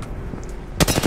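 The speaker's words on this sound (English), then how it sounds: "I gotta start shooting back on these guys." Gunfire in Apex Legends during a ranked Xbox Series X match: a few scattered muffled shots, then a loud, close burst of rapid automatic fire at the end.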